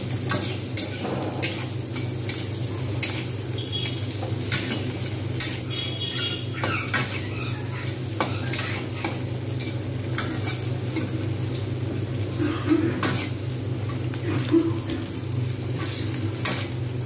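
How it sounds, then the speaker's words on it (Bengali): Onions fry in a pan with a constant close sizzle, punctuated by occasional utensil scrapes and clinks as they are stirred. "এরকমভাবে ভালোভাবে ভেজে নেব পেঁয়াজগুলো।"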